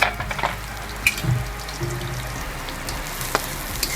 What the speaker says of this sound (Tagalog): mainit na yung ating kawali. Ilalagay na natin ang ating sibuyas.